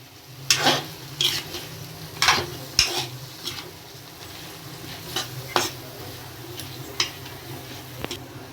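Spices, salt and turmeric being stirred into a moong dal filling for stuffed bitter gourd over a low flame: a steady soft sizzle with repeated sharp spoon taps and scrapes against the pan, close and alone.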